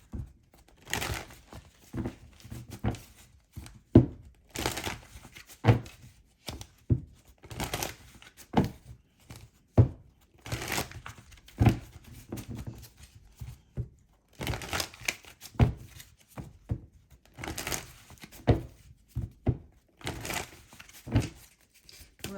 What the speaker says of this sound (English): Let's go ahead and shuffle.